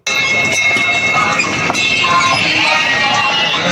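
Children's ride train at Forest City in Malaysia, a steady loud rumbling and clattering roll with metallic clinks, continuous and close, with no speech.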